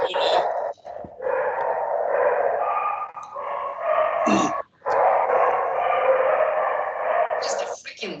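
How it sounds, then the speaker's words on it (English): Neighbors' dogs barking in a steady, continuous din that sounds somewhat muffled and carries on behind voices speaking nearby. "Just the freaking dogs."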